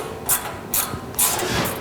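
A 7/16 gear wrench ratchets out bolts from a guard beneath a machine's fixed side head, giving three short, close clicking bursts spaced evenly, with soft handling noise between them.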